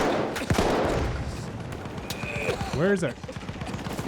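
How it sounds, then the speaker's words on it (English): Gunfire crackles in the Battlefield 1 video game as scattered shots and bursts, some near and some distant, under a player's voice asking a question. "I legitimately could not tell where gunfire was even happening."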